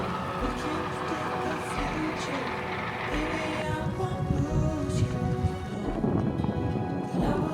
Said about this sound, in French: Quelle galère cette pluie.